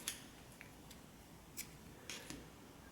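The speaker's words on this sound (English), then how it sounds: "I'm going to cut this tail that we worked" Small scissors snipping the yarn tail on a crochet project, a few quick, faint, crisp clicks spread over a couple of seconds in a quiet room.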